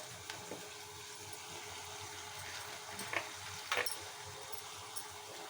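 Spring onions fry in a pan with a soft, steady sizzle and a few faint stirring scrapes, heard close up and quiet with no voices.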